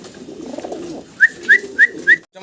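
Cappuccino fancy pigeons at a pigeon farm, four short, clear whistling coos in a steady rhythm, close and loud after a moment of low murmuring background.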